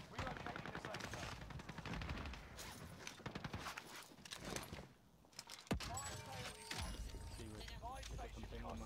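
Automatic gunfire rattles in rapid bursts during a battle royale video game match, loud and close, with footsteps and game effects mixed in and voices talking over parts of it.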